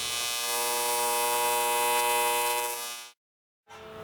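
Welding done upside down underneath a heavy work bench, a loud steady buzzing hum for about three seconds that cuts off abruptly, then a short pause before it resumes.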